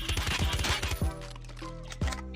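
Rapid automatic gunfire in Call of Duty Mobile rattles in a tight burst of about eight shots, loud and close, followed by a pause and one more heavy shot.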